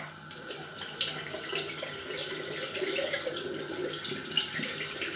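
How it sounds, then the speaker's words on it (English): Tap water runs over the handle of an Edwin Jagger 3ONE6L stainless steel safety razor in a steady splashing stream at a sink, close and continuous with no talk. "I'm just rinsing it off the handle so I can hold it without it slipping out my hand."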